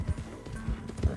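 A glitched horse in a video game clops along in quick uneven hoofbeats, about four soft thuds in just over a second, close and fairly quiet.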